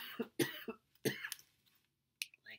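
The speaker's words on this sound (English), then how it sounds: "please excuse me when I cough" A string of harsh coughs, three quick ones then another burst, close and loud, followed by a few faint throat sounds and short noises.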